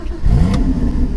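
Porsche Cayman 981 GT4 engine catching and revving up, a close, loud mid-pitched rise that then settles into a steady, throaty idle.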